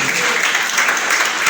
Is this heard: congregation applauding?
yes